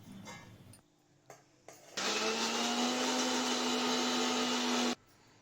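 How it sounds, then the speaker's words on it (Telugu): A mixer grinder blends ivy gourd and cucumber for chutney, starting abruptly and running as a loud, steady whirring whine for about three seconds before cutting off, with a few clicks and taps before it. "దోసకాయ వేసి మిక్సీ పట్టాలి."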